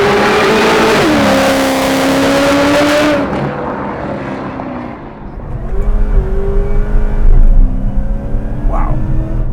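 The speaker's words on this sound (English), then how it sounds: "first gear is not good in this car. It just instantly spins." A supercharged 650 hp Chevy SS four-door sedan accelerates hard with its wheels spinning, the engine roaring up through rising pitch, dropping after a shift, then surging again with loud rumbling and tire noise.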